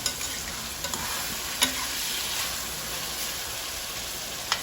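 Seasoning for saltfish sizzles steadily in a pan while a spoon stirs through it, producing a few soft scrapes and taps over the continuous frying hiss.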